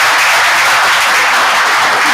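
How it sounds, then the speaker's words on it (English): An audience applauding the panelists at the close of a design meetup panel discussion, a loud, dense and steady burst of clapping from many hands with no voices over it. "a big round of applause for our panelists"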